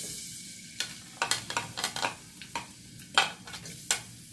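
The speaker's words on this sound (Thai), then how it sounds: "ไอ้กระทะฮ้อนสักหน่อยก่อนเนี่ย เทียมลงก่อน นะเทียมลงไป" Garlic goes into a hot wok for a shrimp and shallot stir-fry, with irregular bursts of sharp utensil scrapes and clacks against the pan over a faint, steady sizzle.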